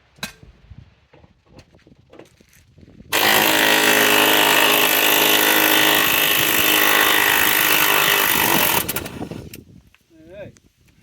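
A loud power tool, likely an impact driver, runs in one sustained whine-and-rattle burst of about six seconds while removing seat bolts inside a 1988 Ford truck, with brief talk before and after.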